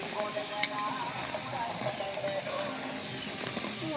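Mung dal pakoras sizzle steadily in hot oil while being stirred, a dense crackling hiss with occasional scraping stirs and one sharp clink near the start.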